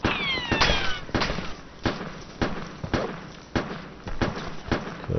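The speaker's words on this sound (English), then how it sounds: "Somebody's shooting at us." Gunfire in the military shooter game ARMA 2 cracks out in sharp, regularly spaced shots at close range, each report ringing briefly before the next, with a whistling streak near the start.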